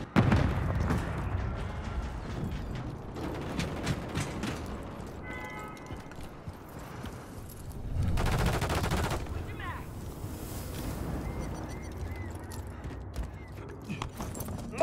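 Bursts of rifle and machine-gun fire crackle through a Call of Duty Modern Warfare 3 match on Xbox Series S, loud and near, with rapid volleys, a sustained heavy burst midway and game voice callouts mixed in.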